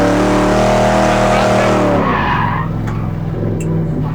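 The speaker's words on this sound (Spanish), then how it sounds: "Vamos a iniciar el derrape con picada de embrague" A car drifting, the skid begun with a clutch kick: a loud engine roar with strong harmonics holds, then drops and wavers as the tyres break loose, with tyre noise and engine stutter continuing close up.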